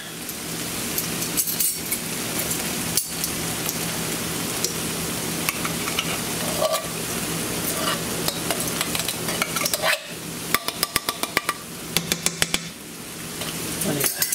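Southwest corn is stirred in a pan with a spoon, with steady, close frying sizzle and scraping throughout, and a quick run of sharp spoon clicks against the pan near the end.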